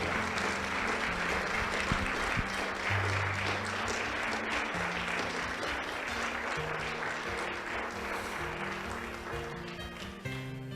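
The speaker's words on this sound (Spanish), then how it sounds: "Demos un aplauso a Cristo." Sustained applause from a congregation at a church service, dense and even clapping for about ten seconds, with some accompanying music tones beneath.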